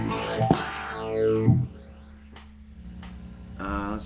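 A Zoom R8 recorder plays a phaser effect tone, a swirling sound whose sweeping pitch rises and falls in waves, with a louder burst at the start and another near the end.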